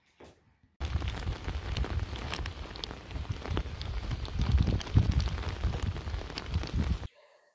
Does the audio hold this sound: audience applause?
no